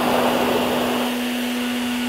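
A handheld hair dryer runs steadily, blowing a jet of air to hold a small ball up in the airstream during a physics demonstration. The constant whooshing drone has a strong steady hum and stays loud throughout, with no talk.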